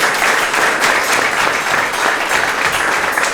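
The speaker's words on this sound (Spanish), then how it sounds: "¿Le damos un aplauso al Señor?" A church congregation claps together in a sustained, even burst of applause that fills the room, loud and steady from start to finish.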